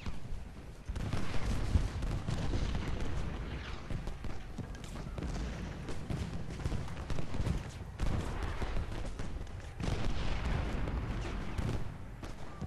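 Civil War artillery booms and rumbles across a Gettysburg battlefield in the Ultimate General strategy game, a continuous barrage of low thuds and crackling volleys at a distance, with no voice over it.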